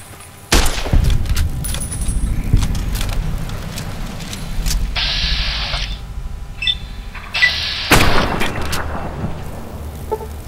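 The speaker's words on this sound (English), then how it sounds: "Seriously, I'm shooting right at the guy." Gunfire in Fallout: New Vegas from a weapon in very low condition: loud sharp shots crack out in bursts, with a steady rumbling bed between volleys and bright whooshing effects.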